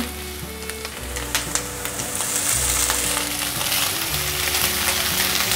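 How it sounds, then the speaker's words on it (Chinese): Shiitake mushrooms stir-fried with preserved radish in a hot wok, a steady loud sizzle with repeated scraping and tossing strokes of the spatula throughout, no voices. "现在放入香菇，快速的翻炒"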